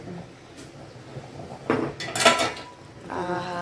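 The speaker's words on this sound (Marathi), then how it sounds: "मम्मी उघड हे झाकण उघड" A lid is lifted off a pot of Kolhapuri white rassa boiling on the stove, giving a couple of sharp metallic clinks and scrapes close by, followed by the quieter bubbling of the simmering curry.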